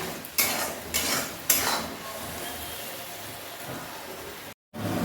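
Chicken stir-frying with turmeric and spices in a pan for a Bengali lunch, a continuous hissing sizzle with a few sharp spatula strikes early on and a brief dropout near the end.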